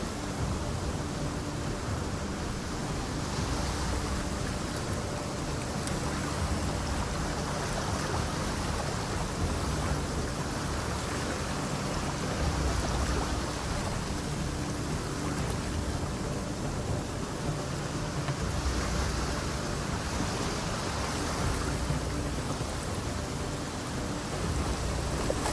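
Steady, dense rain falls throughout a video game scene, a continuous hiss of drops with low rumbling beneath that suggests distant thunder, consistent in level and free of speech.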